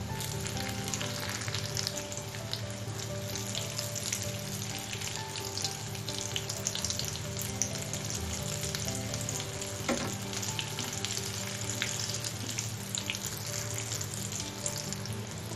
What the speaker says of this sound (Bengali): আমার কাবাবের একটা সাইড ভাজা হয়ে গেছে এবার আমি অপর সাইড ভেজে নিব